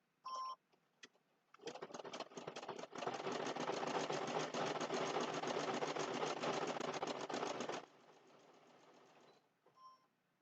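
Sewing machine stitching a placemat, a fast steady mechanical whir of rapid needle strokes running for about six seconds, starting and stopping abruptly, with a few brief clicks before and after.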